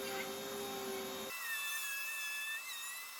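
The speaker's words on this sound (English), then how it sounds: "I drill a 1/4 inch hole in the groove to get it ready for my spiral flush trim bit" A drill bores a quarter-inch hole into a routed groove in MDF while building a subwoofer box, a steady high whine that shifts pitch partway through as the bit bites into the board.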